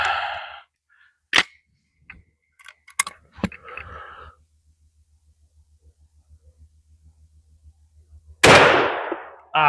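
A Norinco JW83 12-gauge shotgun fired with a .44 Magnum sub-caliber insert gives one sharp, loud blast near the end, preceded by scattered clanks and light mechanical handling sounds.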